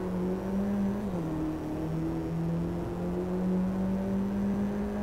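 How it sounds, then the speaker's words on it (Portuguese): Mini Cooper John Cooper Works GP 1.6 16V THP engine heard from inside the car in the Drive Club video game, a steady loud droning hum with slight pitch shifts as it holds speed, no voices. "agora volta rápida com o nosso Mini Cooper John Works"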